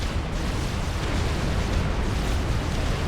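Sniper shots and explosions from a battle in the strategy game Supreme Commander: Forged Alliance form a dense, loud, continuous barrage of booming blasts with no pauses.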